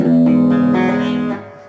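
Electric guitar plays a bridge riff, a few quick notes that ring together in a sustained chord before fading out, close and without talk.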